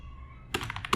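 Computer keyboard keys are struck in a quick burst of about five close, crisp clicks that begin after half a second of near silence.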